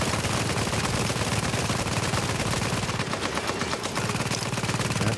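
Dense, continuous automatic gunfire from a firefight in the video game Tom Clancy's The Division, rapid overlapping shots filling the whole stretch loudly and close with no pauses.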